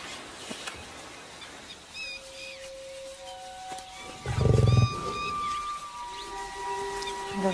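A wild lion in open bush, with a deep, loud roaring burst in the middle among quieter outdoor ambience, distant bird calls and steady background hum.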